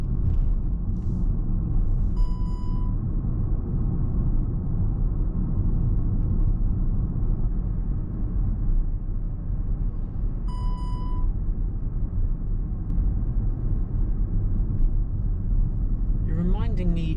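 A dash cam in a moving car gives two short electronic beep alerts several seconds apart over constant low road rumble, with a brief chirp near the end.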